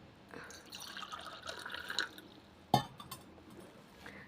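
Water is poured into a vessel, measured by the glass, for a cumin home remedy: a faint, soft trickle followed by a brief splash, quiet and close.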